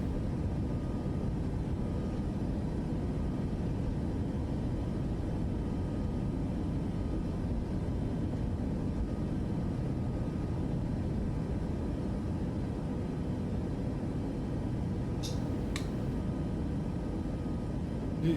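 Aircraft engine at full throttle during takeoff in Microsoft Flight Simulator, a steady loud broadband roar filling the whole stretch with a couple of brief clicks near the end.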